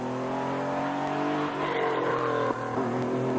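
A Porsche rally car's engine roars loudly and close at the 1997 Jersey Rally, smoke coming from its rear, revving steadily with a slight pitch shift as it drives past.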